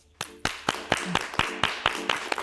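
A studio audience applauds a guest with a run of distinct, fairly close claps. The claps come in a loose steady rhythm at moderate volume and build slightly, with no talking.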